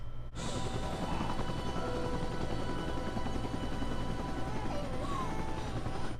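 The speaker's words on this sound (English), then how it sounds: "So Desmond is still on the chopper." A helicopter drones steadily nearby, its rotor thrum loud and constant throughout, with faint tonal sounds over it.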